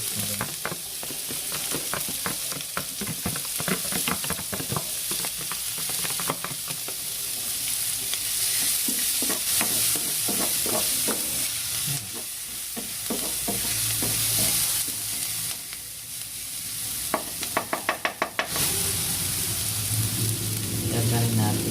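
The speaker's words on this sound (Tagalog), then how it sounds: "Gisa ng bawang." Garlic and onion sauté in hot oil for Filipino-style spaghetti, a steady close sizzle with scraping stirs throughout and a few sharp utensil knocks near the end.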